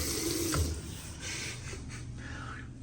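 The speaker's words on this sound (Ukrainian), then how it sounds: "Просто зайшов вода тече." Water runs steadily from an automatic sensor tap in a public restroom, a soft continuous hiss with a brief clunk near the start, fairly quiet and with no voices.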